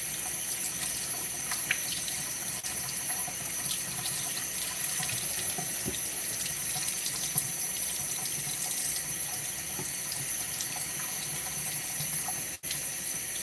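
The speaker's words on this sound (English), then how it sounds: "we are going to sit there and run cold water over this and squeeze it to cool it down" A kitchen tap runs steadily with cold water pouring over freshly made cottage cheese, a continuous rushing splash that holds nearly level throughout with no voices.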